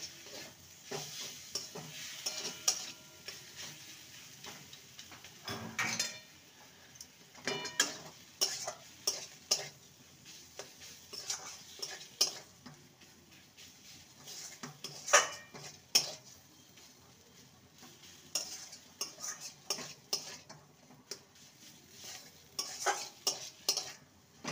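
Mashed potato-and-poha filling being stirred and mixed in a pan, with repeated metal spatula scrapes and clinks against the pan over a faint background sizzle, coming in uneven bursts with brief pauses.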